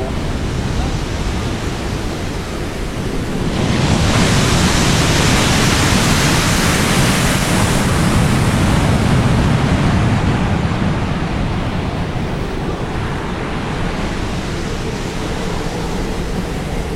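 Ocean waves break on a wild beach in Fuerteventura, a loud, continuous roar of surf that swells stronger midway, with wind rushing across the microphone.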